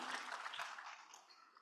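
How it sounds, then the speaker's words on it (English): Applause for the panelists at the closing plenary of Transport Forum 2024, a faint, dense patter of many hands clapping that tapers off over a second and a half. "a big round of applause to our amazing panelists"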